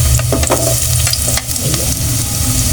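Garlic and onion sauté loudly in hot oil, a close, busy sizzle broken by repeated scraping strokes of a spatula across the pan.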